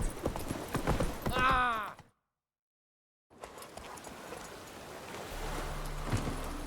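Roach, a horse in the video game The Witcher 3, clip-clops along in a steady hoofbeat rhythm, interrupted by a brief silent gap, with a short voice near the start.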